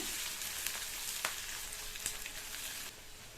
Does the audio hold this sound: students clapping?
no